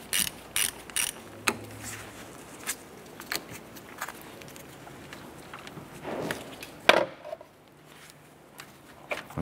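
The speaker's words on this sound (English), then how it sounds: "Let's go ahead and loosen our positive terminal here." A hand ratchet loosens the battery terminal nut on a 1993-1997 Ford Ranger, giving bursts of quick, close clicking pawl strokes with brief pauses and metallic taps in between.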